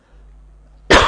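A man coughs once, sharply and close, right after a faint low hum, at the very end of a short stretch.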